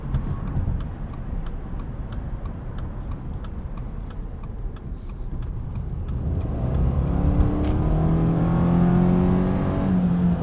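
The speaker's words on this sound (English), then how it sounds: "You can hear a faint boxer rumble there." A 2019 Subaru Forester Sport's boxer engine rumbles low and steady while driving at night, swelling slightly as throttle is applied, with a faint rhythmic ticking beneath the cabin drone.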